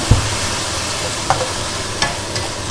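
Beef stir-fried with basil leaves sizzles steadily in a hot pan, a constant frying hiss broken by a few sharp utensil clinks.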